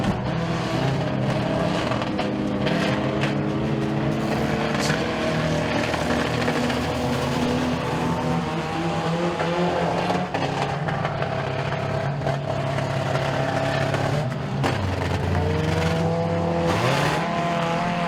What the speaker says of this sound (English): we got 4 cars out there right now.